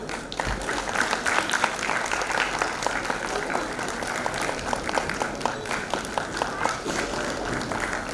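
An audience at an award ceremony applauds steadily, a dense wash of many hands clapping that holds for about eight seconds with faint crowd murmur underneath.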